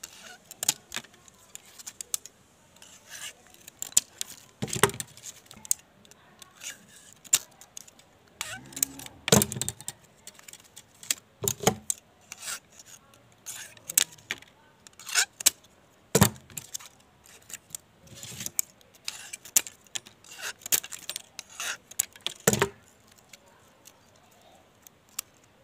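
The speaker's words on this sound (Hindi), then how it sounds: "ये जो पेपर हैं इनको आपको ऐसे काट देना ऊपर से" Insulation paper cut by hand during the rewinding of a ceiling fan's starting coil: sharp, irregular crisp snips and rustles at close range, with quiet gaps between them and no talking.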